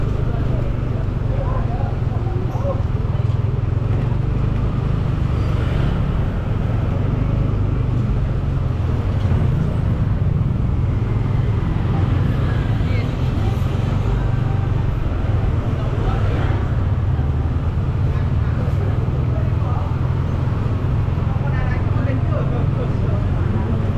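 Busy street traffic along Poppies Lane in Kuta, Bali, heard from a moving vehicle: a steady low engine and road rumble runs throughout, with scattered passing sounds and voices mixed in.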